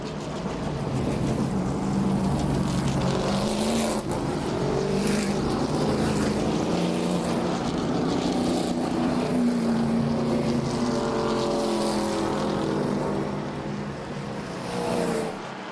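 Race cars roar around the Midvale Speedway dirt oval during a feature race, a dense continuous engine drone with rising and falling pitch as the pack passes, loud and sustained throughout.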